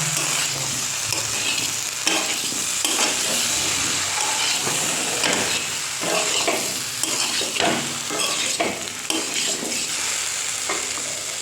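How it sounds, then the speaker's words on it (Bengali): Elephant foot yam curry sizzles and fries in a pan while being stirred, a constant close hiss of frying with repeated scraping strokes of the spoon throughout. "এবার ভালো করে মিক্স করে নেব।"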